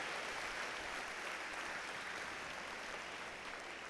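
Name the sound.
round of applause at robotics opening ceremony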